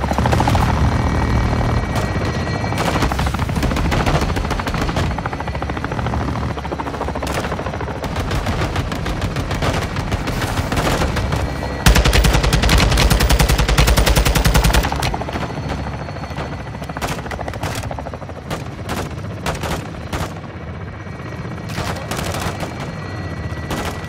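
Helicopter air support in the Call of Duty: Modern Warfare 2 campaign, with loud continuous rotor roar under heavy rapid machine-gun fire and dense bursts of gunfire that swell and then ease off.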